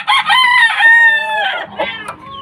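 Cuban tiger hen and a whitehatch muff hen, both broody, giving drawn-out harmonic clucks and a crowing-like call from close by, with several overlapping tones and no voices.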